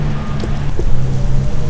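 Rain pours steadily on a cold winter afternoon, a loud, close wash of falling water with a low steady hum underneath and no talking.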